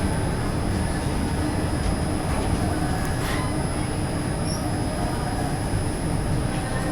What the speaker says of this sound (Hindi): शायद पटना वाली तेजस राजधानी है उसकी यहाँ शंटिंग चल रही है डीजल लोकोमोटिव के साथ में।